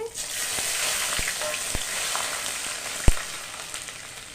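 Cardamom, dried red chillies and ginger with bay leaf and cloves frying in hot oil, giving a steady hiss broken by a few sharp pops and spatters.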